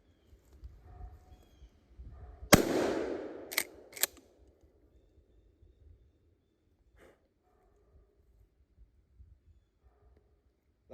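A shotgun fires a 3-inch turkey shell outdoors: one loud sharp blast with a ringing, decaying tail, followed by a couple of quick metallic clicks and clacks from the action, then near silence with faint rustling.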